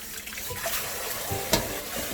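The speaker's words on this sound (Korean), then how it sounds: "한 번만 이렇게 씻으면 돼" Salted cabbage rinsed under running water, a steady close splashing hiss with one brief sharper splash near the end, no talk.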